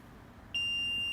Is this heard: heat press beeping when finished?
yes